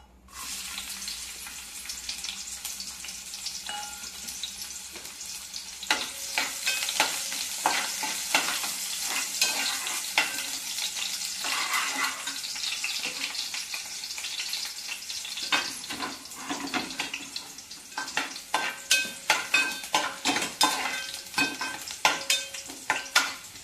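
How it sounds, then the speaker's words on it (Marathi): Onions sizzle and crackle in hot oil for a Malvani clam curry, a steady close frying hiss with occasional stirring scrapes growing busier toward the end. "आता कांदो फोडणी"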